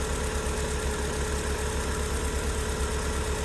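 A 2000 MGF under refurbishment idles while warming up, its engine giving a steady, even, rhythmic low thrum with a constant mechanical whine, close and continuous with no talking.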